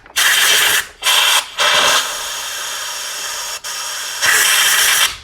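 Compressed air blasts through a plugged PCV orifice on a GM 2.4 Ecotec engine in loud, harsh hissing bursts: three short ones, a longer softer stretch, then a final strong blast, all up close.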